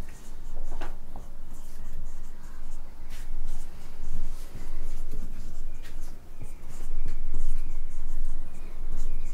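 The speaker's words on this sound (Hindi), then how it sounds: "कुछ एग्जाम्पल मैं आपके सामने लिख रहा हूँ।" Pen or marker scratching steadily as examples are written out by hand on a surface, close and continuous with brief pauses between strokes, no voice over it.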